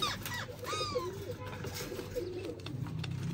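Pigeons kept by a bird seller coo and call in a low, steady murmur, with a few brighter chirps from other birds, all under a continuous background of nearby voices.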